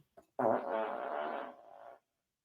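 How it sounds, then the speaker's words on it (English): A single long, loud fart sputters for about a second and a half, with a brief click just before it. "did you just fart again?"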